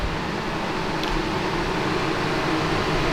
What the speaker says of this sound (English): That noise you hear, we got some fans and things rolling right now.